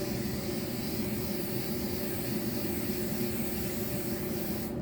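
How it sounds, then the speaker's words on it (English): A steady, close hiss of a spray adhesive can held down continuously for about five seconds, then cutting off abruptly. "spray some adhesive on it"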